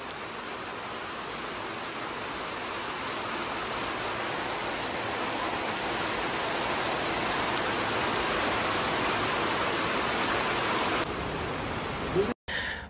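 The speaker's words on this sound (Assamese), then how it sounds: "হঠাতে আহি গ'ল বৰষুণটো একদম ছাডেনলি আহি গ'ল বৰষুণ" A sudden rain shower pours outdoors beside a car, making a dense, even hiss that holds steady for several seconds before a brief knock near the end.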